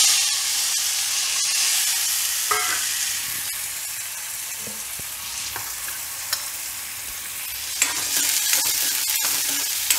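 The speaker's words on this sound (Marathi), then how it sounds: "मी तेलावरती छान परतून घेत आहे" Field bean seeds sauté in oil with turmeric and asafoetida under a constant hissing sizzle, with occasional spatula scrapes and clinks and a busier patch of stirring near the end.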